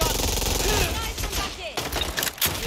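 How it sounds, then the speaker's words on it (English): Gunfire rattles in rapid bursts during a firefight in Watch Dogs: Legion, crackling under game sounds and a shout, loud at first and then thinning into scattered shots. "That's a gun!"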